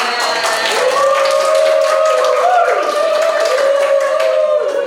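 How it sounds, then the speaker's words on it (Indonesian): A class claps steadily and loudly in a continuous patter, with a sustained whistle-like tone or voice running over the top. "tepuk tangan untuk semuanya."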